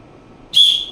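A referee's whistle gives one sharp, loud, shrill blast that starts abruptly midway and holds briefly before fading, preceded by near silence.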